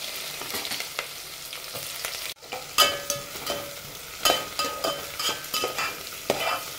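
Fennel seeds and onion fry in a pan for egg biryani, a steady close sizzle broken by a series of sharp clattering stirs and scrapes, with a brief drop near the middle before the stirring resumes.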